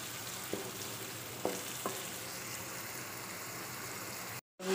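Onions frying over medium heat in a pan for a potato and egg curry, a steady soft sizzle with a few light stirring clicks, quiet and close, ending in a brief cut.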